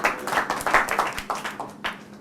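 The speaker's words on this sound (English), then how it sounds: "Clap for Kareem." A small group claps for Kareem in a classroom, a short burst of scattered, uneven hand claps at close range.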